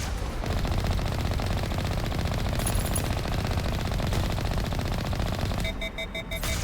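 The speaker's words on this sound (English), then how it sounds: "How are they firing on me already?" Sustained automatic enemy gunfire in the Mass Effect video game, loud and close, with rapid continuous rattling that stays steady for several seconds before a brief electronic beeping near the end.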